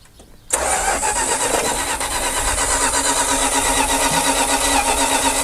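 The engine of an abandoned Dodge Power Wagon service truck catches after a brief crank and settles into a loud, steady running roar close by, with no talking.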